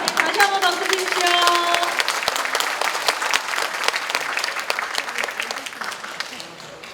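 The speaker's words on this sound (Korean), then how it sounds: "다시 한번 박수 주십시오." An audience at a Democratic Party lecture event with a former prime minister breaks into applause, crisp dense clapping that swells early and slowly tapers, with a brief tone and voices near the start.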